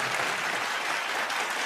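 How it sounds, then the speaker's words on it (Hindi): An audience at a comedy show bursts into loud, dense applause, a close and continuous wash of clapping hands that fills the whole moment without pause. "मैं चाहूंगा एसपी साहब के लिए जोरदार तालियां"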